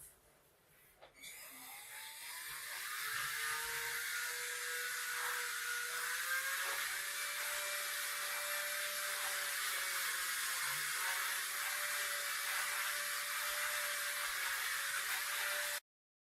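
A rotary tool fitted with a Scotch-Brite disc spins up after a short pause and whines steadily and loudly while polishing a glass shower screen, its pitch wavering slightly under load, then cuts off abruptly.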